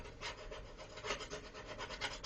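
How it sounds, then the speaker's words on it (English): A knife with baking soda scrubs a stubborn spot inside an oven, making quick, rhythmic rasping strokes, close and steady, with no talking. "take a knife with baking soda and scrub the stubborn spot out"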